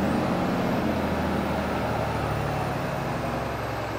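A big diesel truck engine roars loudly as it is revved to governor speed, its low rumble holding high and steady and then easing slightly, heard up close with no speech.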